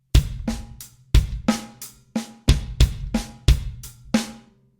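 Close solo drum kit laying down a steady paradiddle sticking pattern with low bass drum thumps, ten or so crisp hits before ringing out and stopping.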